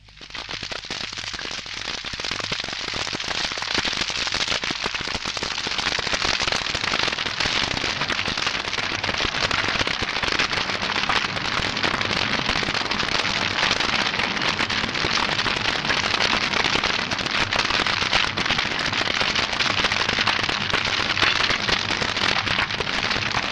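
A crackling fire effect in a 1975 stage drama about Elijah, a loud, continuous dense crackle and hiss like roaring flames, building in at the start and holding steady throughout without speech.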